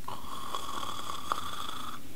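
A voice imitates a low, growling snore with one steady, rasping drone of about two seconds, held at even loudness, with no talking over it.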